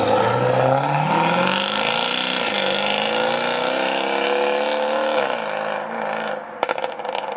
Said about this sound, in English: Here we go, F-Type SVR heading out. This is gonna sound good.